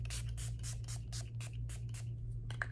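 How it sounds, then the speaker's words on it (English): Milani Make It Last setting spray misting onto a made-up face, a quick series of about ten short hissing bursts in a steady rhythm, close and fairly soft with no talking. "we'll end with a setting spray, Make It Last by Milani"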